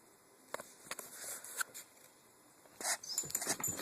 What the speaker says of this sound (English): Fucking annoying dog.